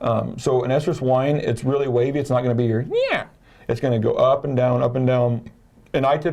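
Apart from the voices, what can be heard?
No everyday noise stands out behind the speech.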